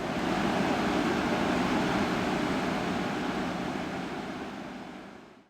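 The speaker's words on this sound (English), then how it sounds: "These are what they call the reversing falls. Most dramatic" Tidal water rushes through the Reversing Falls gorge at the turn of the tide, a dense, steady roar that stays loud and unbroken, then gently fades near the end, with no voices.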